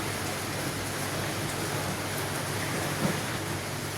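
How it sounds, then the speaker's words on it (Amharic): Steady rain falls in Dubai, an even wash of hiss with no pauses and no voices, a single faint thump near the end. "ዛሬ ዝናብ አለ፣ ደስ የሚለው ነገር ዱባይ ላይ ማለት ነው።"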